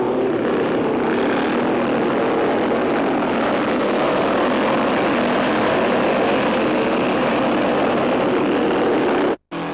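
Racing cars in a 500cc race at Mallory Park roar into Shaw's Corner with the Cooper Jag leading, a loud, sustained engine drone that cuts off abruptly near the end.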